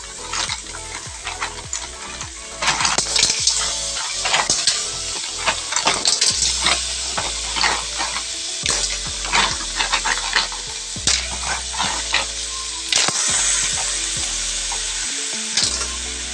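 Bagoong fries with tomatoes in a hot pan, giving a loud, continuous sizzle broken by frequent spatula scrapes and stirring clatter.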